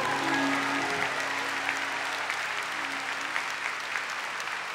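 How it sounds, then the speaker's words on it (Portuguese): A church congregation claps steadily, a sustained wash of applause with a faint tone fading out early on. "Vamos aplaudir o Senhor."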